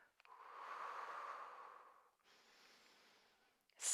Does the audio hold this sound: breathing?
yes